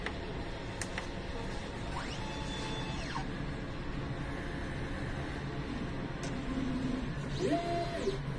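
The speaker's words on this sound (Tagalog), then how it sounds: "Nozzle test." A DTF printer runs a nozzle test, making a steady mechanical hum with a few rising and falling motor whirs as the print head carriage moves, fairly quiet and with no one talking.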